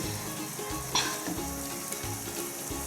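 Mushrooms sizzle steadily in a hot pan for beef stroganoff, a close, constant frying hiss with a brief scrape of stirring partway through, no talking.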